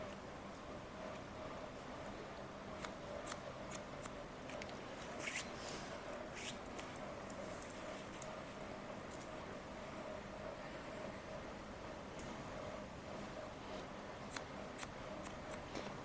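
Scissors cutting fabric along a guideline, quiet repeated crisp snips in an irregular rhythm over a faint steady background hum, close but soft.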